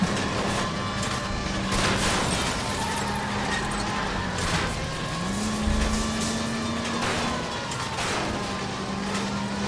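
In L.A. Noire, a streetcar plows through traffic, its engine droning steadily under scattered crunching impacts and a rising whine as it rolls on.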